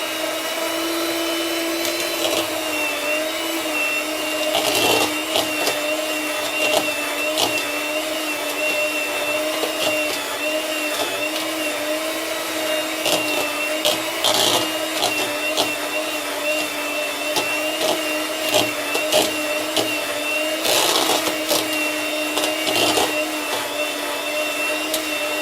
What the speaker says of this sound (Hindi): लो स्पीड पे मैंने बटर और शुगर को अच्छे से मिक्स कर लिया